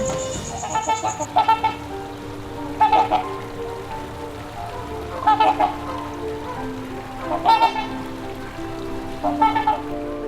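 Geese honking in short repeated calls spaced about two seconds apart, moderately close, over a steady soft patter in the background.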